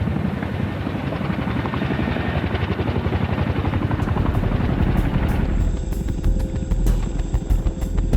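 A CH-47 Chinook military helicopter flying, its loud, steady, throbbing twin-rotor roar filling the whole clip with no voices, the tone thinning slightly toward the end.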